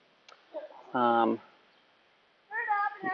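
A cat meows outdoors, two clear drawn-out cries spaced a second or so apart, close and fairly loud against a quiet background.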